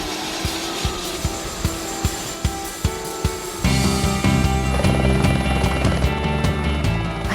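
Helicopter flying over a volcano, its rotor beating in a steady rhythmic chop that turns into a loud, dense engine and rotor roar partway through, close and continuous with no talking.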